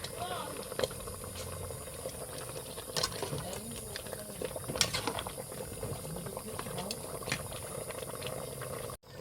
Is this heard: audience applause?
no